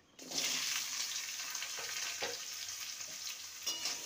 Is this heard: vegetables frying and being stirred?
yes